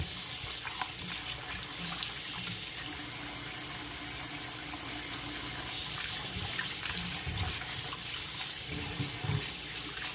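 Tap water runs steadily from a faucet into a sink while pork, beef and cow foot are washed for a Caribbean pepperpot, a continuous close splashing hiss with occasional clatter.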